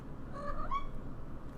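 A small cat meows twice close by, the short rising calls coming one after the other over quiet room noise.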